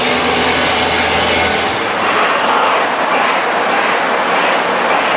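Small pieces of stainless steel pipe being cut for motorcycle exhaust work, a continuous harsh grinding rasp that holds loud and steady throughout, with a lower hum fading early on.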